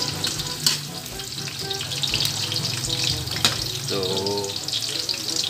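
Garlic sizzling and frying in a pan for adobong sitaw, a steady close crackle with occasional stirring scrapes and a brief voice near the end.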